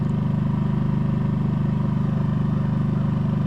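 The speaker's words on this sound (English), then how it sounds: "Alright, I've got the generator running." A portable generator drones steadily at a camper site, a low, even engine hum with a fast regular pulse that holds constant throughout.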